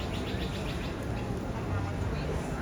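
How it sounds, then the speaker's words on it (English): Birds, among them an ibis and pigeons, gather at an outdoor lunch spot, with faint chirps and coos over a steady busy background of ambient hum and murmuring. "we're being invaded by birds at lunch. An ibis over there. A pigeon down here."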